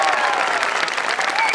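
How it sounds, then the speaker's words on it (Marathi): Dense audience applause at a Marathi comedy award presentation for a skit performer, a steady loud wash of many hands clapping at once for the whole moment. "एकदा जोरदार टाळ्या"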